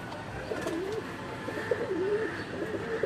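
Pet pigeons kept by a fancier coo in soft, wavering rolls, two or three drawn-out calls close by over a low background murmur.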